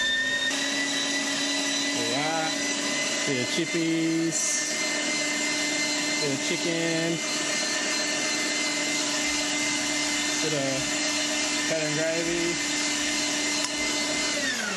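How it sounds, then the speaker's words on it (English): An old vacuum cleaner drones steadily and loudly for the whole stretch, its pitch holding constant while a person talks over it at intervals. "The old vacuum cleaner."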